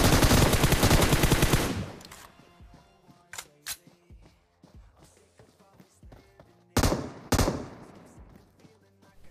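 M249 machine gun fire in a video game, starting with a loud sustained burst for about two seconds, then scattered short two-round bursts and single shots near and far amid game effects.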